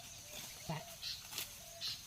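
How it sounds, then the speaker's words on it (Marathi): A few brief, high house sparrow chirps near a nest at a farm field's edge come in short bursts over quiet background hiss, with a faint murmur of voices. "ही बघा चिमणी ओरडते तिथं घरटा आहे"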